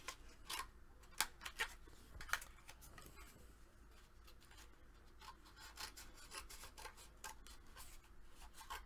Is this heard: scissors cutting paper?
yes